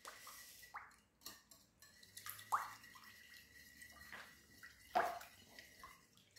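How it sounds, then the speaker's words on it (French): Water poured into a mixing bowl that already holds olive oil, short splashy pours in a few separate bursts with small drips between, close and fairly quiet. "Je vais rajouter 500 ml d'eau"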